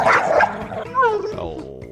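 A dog named Rover giving a couple of short yipping barks and a whimpering whine, close and loud, the bursts separated by brief pauses.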